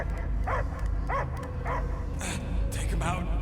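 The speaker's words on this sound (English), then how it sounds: "I hear only barking." A dog barks and yips in short, repeated bursts in the Guardians of the Galaxy video game, set against a steady low game soundscape with voices speaking over it.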